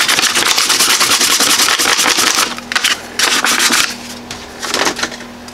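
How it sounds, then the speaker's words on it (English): A red scuff pad rubs back and forth along the edges of a Kydex holster, giving loud, close, rapid scratchy strokes. The rubbing runs continuously, then comes in short bursts with brief pauses. "I just use one of these red scuff pads to just final finish the edges, just to make sure they're good and smooth."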